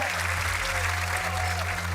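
Studio audience applause on a Polish game show, a brief burst of steady clapping over a low music bed.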